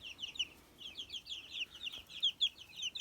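Chicks peep and chickens cluck in quick, high chirps inside a poultry building, close and fairly faint, with an irregular, busy rhythm.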